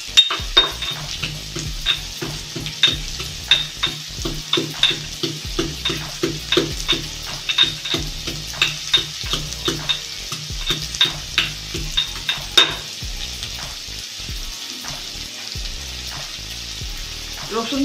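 Garlic and green chilies frying in oil in a pan, a continuous sizzle with regular scraping stirring strokes of a spatula against the metal, close and steady, easing off toward the end.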